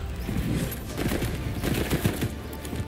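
Desert Eagle pistol fire in Fortnite, a rapid run of sharp gunshot cracks mixed with other distant battle fire, steady and moderately loud with no voices.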